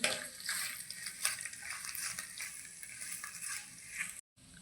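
Spice paste with turmeric sizzles in oil in a pan for carrot fry, a close, hissing crackle with soft pulsing swells from stirring, cutting off abruptly near the end.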